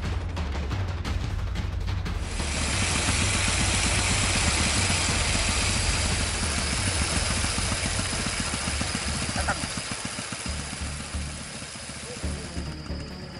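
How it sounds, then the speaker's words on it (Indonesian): An illegal oil drilling rig's engine runs steadily in a rural village oilfield, a loud, continuous low droning roar with a brief clatter at the start, holding constant throughout with no speech. "Suara mesin terus menderu di pedalaman desa Sungai Angin"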